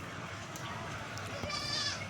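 Goats bleat in a farm pen, a few short nasal cries rising over steady outdoor background noise, fairly close.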